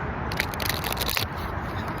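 Stiff tarot cards are shuffled up close, giving a dense, continuous papery crackle and rasp for two seconds with no talking.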